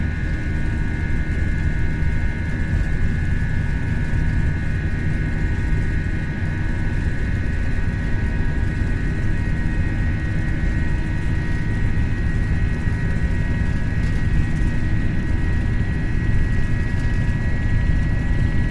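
Airbus jet engines at takeoff thrust in the FlightSimLabs Prepar3D simulator, a steady loud roar with a whining tonal hum held without a break throughout.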